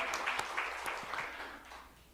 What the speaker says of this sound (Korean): 우리 하나님께 영광 박수 올려드립시다.